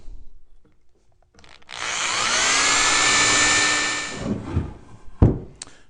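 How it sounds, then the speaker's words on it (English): A power drill bores a pilot hole into the wood of a Layens beehive under construction, a steady whirring grind for a couple of seconds that winds down, followed by light wooden knocks and handling sounds. "And I like to pre-drill the holes into here too."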